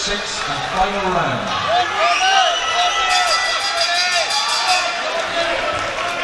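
A boxing crowd cheers on Jamie Todd during a fight against Jason Nesbitt, a steady roar of voices with whoops rising and falling, while a commentator talks over it throughout.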